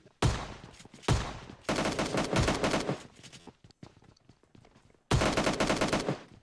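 Shotgun gunfire in the mobile battle-royale game PUBG Mobile: loud, booming blasts in several bursts, with rapid follow-up shots and a brief quieter lull before a final heavy volley.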